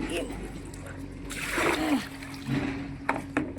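Water from a motor-pumped hose splashes and sloshes close by, gushing for a moment then trickling, with a few spattering bursts and a person speaking over it.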